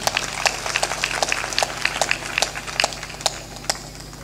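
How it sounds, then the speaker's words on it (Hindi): Scattered applause from a small seated gathering at a spiritual assembly honors a guest, sparse distinct claps at an uneven rhythm, fairly close and moderate in loudness, with no talk over it. "ताली बजा के सम्मान"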